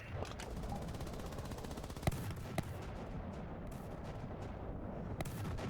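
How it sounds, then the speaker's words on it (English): Tank main guns firing in a vehicle-training session of a multiplayer video game, heard as dense rumbling gunfire with a couple of sharper distinct shots standing out over a steady loud battle din. "Fire your main turret and fire at me, please."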